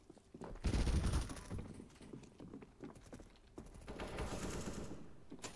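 CS:GO gunfire on the de marine map: quiet clusters of rapid clicky shots and bursts, fairly faint and irregular, with game ambience between them.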